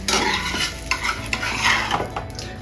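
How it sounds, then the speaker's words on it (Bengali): Wheat flour roti fries in hot oil in a pan, giving a bright continuous sizzle broken by scraping stirs and light utensil clatter, close and loud. "আমি এখানে এই আটার রুটিটাকেই সেঁকে নিচ্ছি তেলে।"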